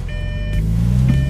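A Lamborghini bought at auction backing up in reverse, its engine giving a steady low rumble close by while two short electronic reversing beeps chime over it.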